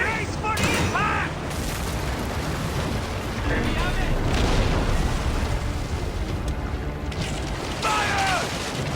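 Cannon fire in an Assassin's Creed Origins naval battle: heavy booming blasts roll over wind and water noise, while voices shout commands near the start and end.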